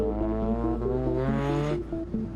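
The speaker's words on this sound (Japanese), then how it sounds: "再びピットを出た水素カローラ。" Hydrogen-engined Toyota Corolla race car pulls out of the pit, its engine note holding a steady tone under rising revs before easing off near the end, loud and close.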